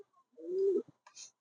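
King pigeons on a pigeon farm give a single low, throaty coo, followed by a couple of short faint calls, close and clear with no talking.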